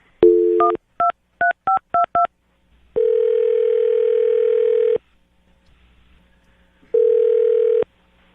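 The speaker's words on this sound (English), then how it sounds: "I'm going to dial her phone number right now" A phone number is dialed on a touch-tone keypad. Six quick beeps come in an uneven rhythm, followed by two long steady ringback tones separated by silence, all clean and close with no voices.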